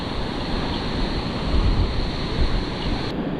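Ocean surf breaks steadily on a beach where someone is fishing for whiting, a close, continuous roar with swelling surges and some wind noise, no voices.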